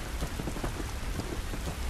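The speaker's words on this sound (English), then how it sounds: "This rain ain't gonna do us any good." Steady rain pours in The Last of Us Part II, a dense, even hiss of falling drops with low rumbling underneath, continuous and close with no voices.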